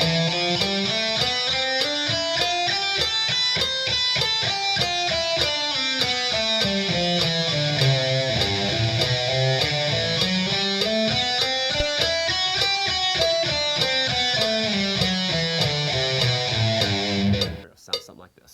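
Electric guitar runs a connected pentatonic scale as a fast, even stream of notes climbing and falling in repeated waves, steady and close, ending abruptly with a brief cutoff.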